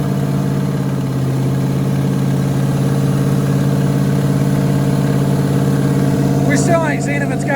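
Old big block RV engine idling high after being revved, a steady loud drone with a rough, even pulse that stays elevated throughout, with brief chatter near the end.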